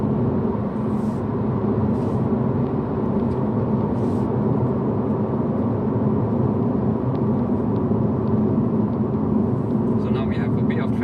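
Steady low road rumble and tyre noise inside a 2022 Honda Civic 1.5L RS at low speed, with faint hiss and a few light ticks, a constant, muted hum without talk.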